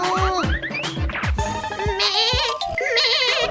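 A goat kid bleats in a cartoon, with loud, wavering cries layered among bouncy comic sound effects in a busy, close mix.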